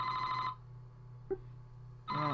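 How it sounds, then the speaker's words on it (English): Telephone ringing in the video game Famicom Detective Club: two bursts of an electronic bell ring, one at the start and one at the end, separated by a quiet gap with a brief blip, and no talk. "The phone."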